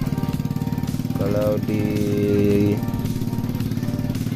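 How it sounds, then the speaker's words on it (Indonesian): Motorcycle fitted with an aftermarket RCB exhaust made in Purbalingga, idling with a rapid, throbbing putter, briefly revving higher in the middle before settling back, with a short bit of talk over it. "Kurang lebih bunyi knalpotnya kayak ini cuy. Knalpot RCB keluaran Purbalingga."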